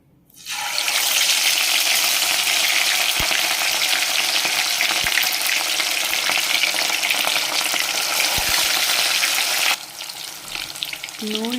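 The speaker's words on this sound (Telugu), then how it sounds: "ఆయిల్ అయితే కాగిపోయింది ఇప్పుడు చాలా స్లోగా ఒక్కొక్క చేప ముక్కని వేసేసుకుంటాం" Fish pieces frying in hot oil in a pan for a dhaba-style fish korma, a loud, steady, close sizzle that carries on unbroken and eases slightly near the end.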